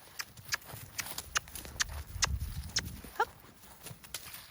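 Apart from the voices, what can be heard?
horse hooves clip-clopping while being lunged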